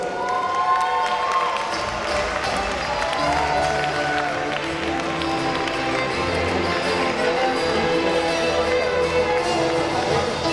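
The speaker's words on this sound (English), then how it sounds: "give him a big round of applause" Audience applause and cheering fill a robot olympiad award ceremony, a steady wash of clapping and crowd noise that runs unbroken for the whole stretch, with some voices mixed in.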